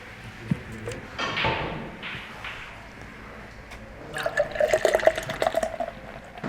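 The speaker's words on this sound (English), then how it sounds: "Just pouring more of my beer out." Beer poured out during a snooker-style frame, a trickling, splashing pour with drips that grows busier and louder toward the end, heard alone.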